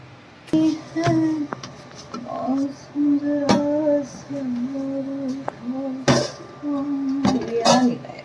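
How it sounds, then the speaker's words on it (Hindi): Soaked chana dal being rinsed in a metal pot, with clanks and knocks of the pot and splashy scraping in short bursts, close by, while someone talks over the sounds. "ये मैंने दाल जो भिगोई थी ना, इसको धो लेते हैं।"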